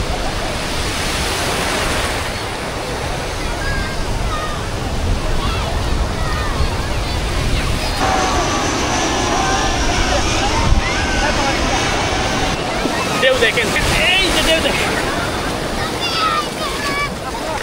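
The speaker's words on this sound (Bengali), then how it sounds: "আশা করছি আপনার ঢেউর আওয়াজ শুনেছেন, কক্সবাজার সমুদ্র সৈকতের আওয়াজটা কিরকম সেটাও শুনেছেন" Ocean waves break continuously on the sea beach at Cox's Bazar, making a loud, broad roar of surf with wind that carries on without pause.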